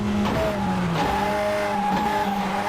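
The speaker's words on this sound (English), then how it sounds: "Can't quite get that handbrake turn how I want it yet" A rally car in a racing video game throws a handbrake turn on tarmac, its engine droning with shifting pitch while tires squeal and skid loudly and steadily up close.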